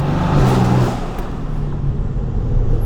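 A loud Mercedes-AMG V8 engine rumbles and revs steadily nearby, a deep low growl holding for a few seconds with no one speaking.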